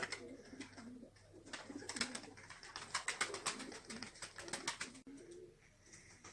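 A five-year-old Gökdişi tumbler pigeon coos in soft, repeated throaty phrases, close and fairly clear, with pulsing rhythmic calls over several seconds and no talking.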